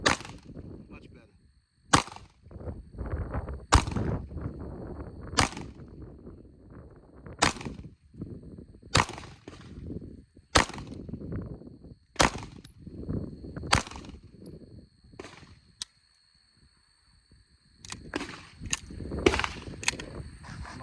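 Staccato P pistol shots at a shooting range, about a dozen sharp, loud cracks fired at uneven intervals with pauses between strings, a brief quiet gap, then a fast cluster of shots.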